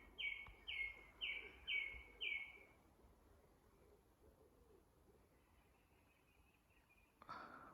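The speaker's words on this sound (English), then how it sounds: "Listen to the birds." Five clear bird chirps ring out in quick, evenly spaced succession, each a short bright call over faint outdoor ambience, then only quiet background remains until a soft rustle near the end.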